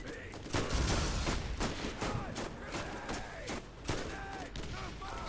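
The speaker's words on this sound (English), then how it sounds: "I have commandeered this turret," Rapid turret gunfire in the video game Borderlands, a dense continuous burst of shots with repeated sharp cracks, loud and close, with faint game noise underneath.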